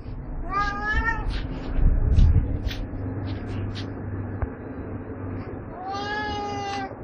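Cat meowing close by: a quick run of rising, drawn-out meows, a stretch of low rumbling background noise, then another long, wavering meow.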